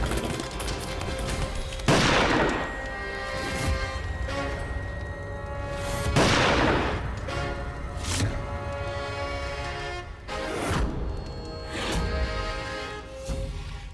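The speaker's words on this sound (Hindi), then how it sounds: "पुलिस वाले हो तो बंदूक निकाल के गोली चलाओगे" Gunfire in a Hindi TV drama episode: several loud gunshot bursts ring out over about fourteen seconds, sharp cracks spaced a few seconds apart over a continuous dramatic score, with no talk.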